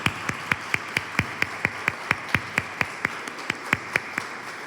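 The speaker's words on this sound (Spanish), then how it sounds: "Un fuerte aplauso, por favor, para los jóvenes" Clapping for young performers at a book presentation, heard as a single close pair of hands beating an even, steady rhythm of about twenty sharp claps, with no crowd noise around it.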